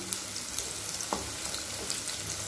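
Chicken 65 pieces fry in hot oil as they are gently turned, a steady close hiss of sizzling with a few soft taps and clinks from the utensil, no talking.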